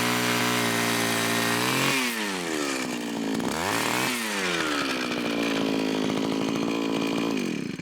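Gas-powered ice auger boring a hole through lake ice, its small engine roaring loud and close, pitch dipping and revving back up under load throughout, no voices.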